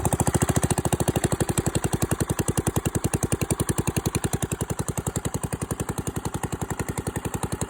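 An old Wisconsin single-cylinder gasoline engine idles steadily close by, its even, rapid chugging pulses carrying on unchanged with no voices.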